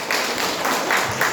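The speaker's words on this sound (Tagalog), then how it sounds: "Isang malakas na palakpak sa Panginoon." A church congregation claps together in sustained applause, a dense, steady wash of many hands filling the room with no pause.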